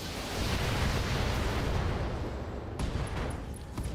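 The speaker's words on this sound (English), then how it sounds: "LRM explosion." Long-range missiles exploding in the BattleTech mech combat game: a dense, sustained rumbling barrage of blasts filling the low end, with sharper cracks and small metallic pings near the end, no talk.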